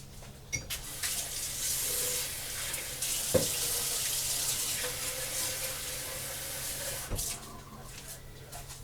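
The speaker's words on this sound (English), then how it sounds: "Add a little bit of water to my pitcher I had that in." Tap water runs steadily into a pitcher, a continuous splashing rush with a few knocks and clinks, and no talking.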